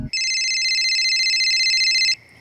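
A phone rings with a single loud, sustained electronic trill that starts abruptly and cuts off after about two seconds, alone with no talking.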